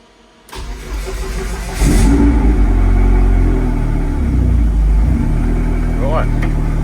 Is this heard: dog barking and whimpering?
no